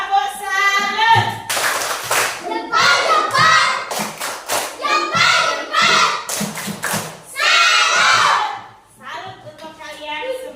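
A school class performs the 'tepuk salut' clapping chant, with group voices chanting in rhythm between bursts of clapping, close and lively, ending in a short spoken phrase.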